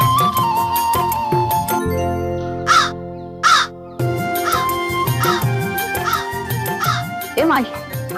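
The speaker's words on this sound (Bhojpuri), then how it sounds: "माई देखो एगो कौवा।" Crow cawing in a rural Bhojpuri home, several harsh caws in bursts over about eight seconds, close and loud, mixed with a voice and other people talking.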